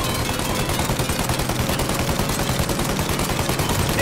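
Rapid, continuous gunfire from a shootout in Mafia I Definitive Edition, with dense overlapping shots fired at a plane's engines as it prepares to take off. The shooting is loud and steady, with no gaps, throughout the clip.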